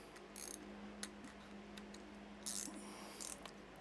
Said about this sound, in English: Then get a spanner, 10mm, and just nick that up with a spanner.